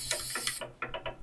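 Quick rhythmic metallic rattling, like a spray paint can being shaken, in two bursts separated by a brief pause.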